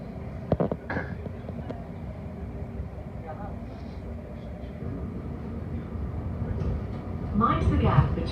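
A former TfL Rail Class 315 commuter train rumbles along the line near Ilford in a low, steady drone with occasional clunks, swelling toward the end as a voice speaks over it.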